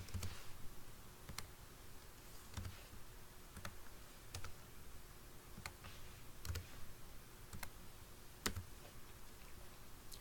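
Keys tapped on a computer keyboard while answers are typed into notes, the clicks sparse and irregular with about one stroke per second, faint over a steady background hiss with no talking.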